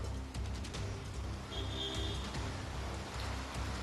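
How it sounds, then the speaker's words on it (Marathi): Steady rain patters on surfaces on Senapati Bapat Road in Pune, a dense hiss of drops with a faint tone briefly in the background. "गेली 3 ते 4 दिवसापासून सातत्यानं पुण्यामध्ये पाऊस पडत आहे"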